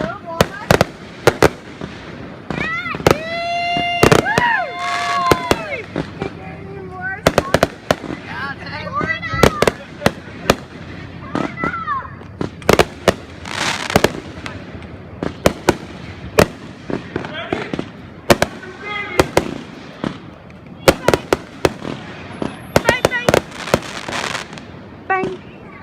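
Fireworks burst repeatedly in quick, irregular volleys with loud sharp pops and crackles, some whistling streaks rising between them, while people talk and shout nearby throughout.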